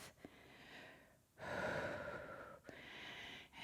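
Heavy breathing during a strength workout with gliders, close and quiet, with long rasping inhales and exhales, a couple of sharp gasps, and a slow repeating rhythm.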